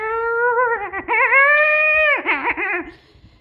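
A person imitates an omega wolf howl: a high, wavering, whining voiced tone with dips and breaks, sustained for about three seconds and fading at the end, heard close and alone.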